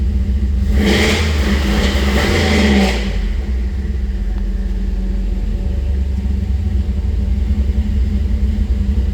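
LS-swapped car engine with a clutch-in launch-control two-step holding near 3,000 rpm: a loud burst of revving for about two seconds, then a steady low idle rumble close by, no talk.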